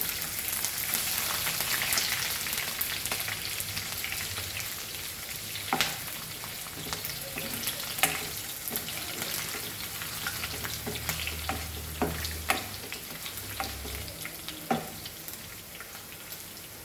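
Garlic and chilies sizzle steadily in a hot pan for Goan patal bhaji, a continuous close frying hiss with occasional sharp crackles and stirring knocks, no voices.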